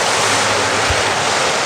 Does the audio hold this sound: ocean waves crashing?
yes